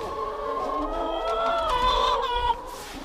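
Hens cluck and squawk steadily on a farm at close range, several birds overlapping in a busy, continuous chatter with a bit of background rustle.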